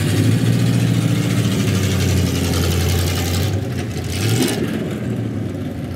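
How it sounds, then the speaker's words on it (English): A 1969 Cyclone rolls by in a Christmas parade, its engine a steady loud rumble with a low idle note that swells briefly near the end, heard close with no talking. "1969 Cyclone."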